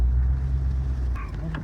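A car pulling into a flooded camp in the woods, its engine a steady low rumble close by, with brief knocks toward the end.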